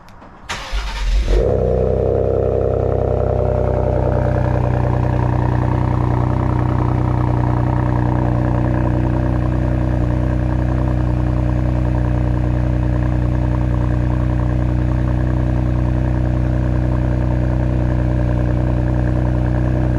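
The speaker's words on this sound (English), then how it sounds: "let me give you a cold start with these Borla Attacks that are on here." A 2022 Ford Explorer ST with a Borla ATAK exhaust cold-starts with a sharp crank and loud catch, then settles into a steady, rumbling fast idle that holds close and unbroken for the rest of the span.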